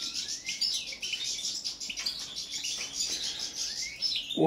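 A young male European goldfinch of the Balkan subspecies sings close by, a bright, fast stream of twittering trills and chirps running without pause and without speech.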